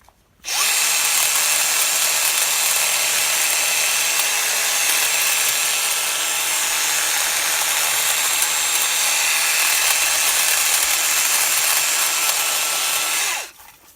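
A Stihl HSA 94T cordless hedge trimmer set to medium cuts through tough growth, giving a loud, steady high-pitched buzz that runs unbroken for about thirteen seconds before cutting off.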